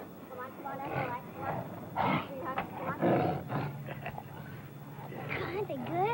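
A circus tiger's rumbling roars and snarls repeat through the clip, mixed with voices and background noise.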